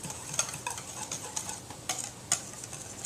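A spoon stirs cinnamon, savory and sage into a creamy mixture for a bacon tart, giving soft, quiet scraping and ticking strokes in an irregular rhythm close up.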